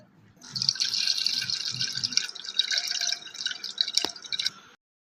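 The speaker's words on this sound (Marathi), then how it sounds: "आता हे दुसऱ्या पातेल्यात गाळून घ्यायचं" Cooled boiled water poured through a strainer into another pot in a home kitchen, a steady close trickle and splash lasting about four seconds before stopping.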